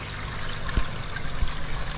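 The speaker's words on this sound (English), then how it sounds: "you can see it trickling through, well actually pouring through" Water pours steadily through the mesh of a homemade auto-clean pond sieve filter. A continuous close splashing wash carries a couple of soft low thumps, with no voices.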